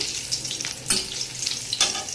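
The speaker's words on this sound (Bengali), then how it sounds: "এবারে পাঁচ ফোড়ন দিয়ে নিচ্ছি এই একই ফোড়ন আমি ডালেও দেবো আর বাঁধাকপিতেও দেবো ফোড়নটা একটু ভেজে নিচ্ছি নেড়ে চেড়ে" Panch phoron spices fry in hot oil in a wok while being stirred, giving a bright, close sizzle with a couple of sharper scraping bursts from the spoon.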